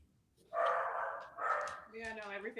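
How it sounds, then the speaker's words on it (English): A dog barks several times close by, loud yelping barks in quick succession ending in a whiny, tonal yip. "I think my dog heard your dog barking, Nathan, all the way from Texas."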